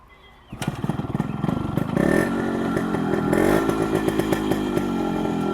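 A Yamaha RX100 motorcycle engine starts up and settles into a loud, sharp, buzzy two-stroke exhaust note, revving steadily and close by with no talking.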